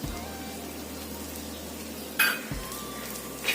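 Egg bhurji with chopped coriander and red chilli powder being stirred in a hot pan, giving a steady close sizzle with a few sharp spoon scrapes and clinks against the metal.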